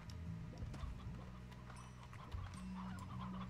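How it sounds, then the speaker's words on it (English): Chickens cluck in the farming video game Slime Rancher, several short clucks and calls scattered over a steady low game music bed at fairly low volume. "Chickens! Chickens!"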